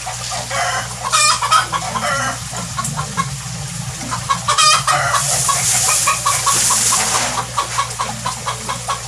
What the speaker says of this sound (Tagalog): Medyo maingay na rin yung mga manok kasi hapon na